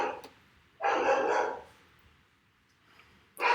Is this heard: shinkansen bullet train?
no